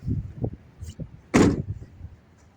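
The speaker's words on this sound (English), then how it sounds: "Doors all shut fine." Doors on a 2005 Dodge Ram 2500 Quad Cab Hemi pickup are shut: a few soft thumps and latch clicks, then one louder, sharper slam, heard close by.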